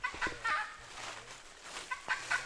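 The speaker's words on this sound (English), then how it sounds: "high overhead in the canopy, akakai birds warn of intruders" Akakai birds give warning calls high in the Amazon rainforest canopy, repeated harsh clucking cries at a moderate distance over a soft forest background.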